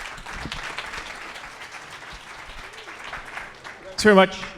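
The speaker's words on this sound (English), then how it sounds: "please, round of applause for Councillor Bradford." Audience applause at a fireside chat event, a steady dense wash of clapping filling most of the clip, with a louder burst near the end as a voice cuts in.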